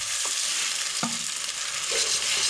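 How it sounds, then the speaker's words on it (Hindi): Garlic and ginger frying in a pan for moong dal, giving a steady close sizzle throughout with a few sharp stirring clinks from the utensil. "अब मैं लहसुन और अदरक को 1 से 2 मिनट जो है वो अच्छी तरीके से इसमें भूनूंगा"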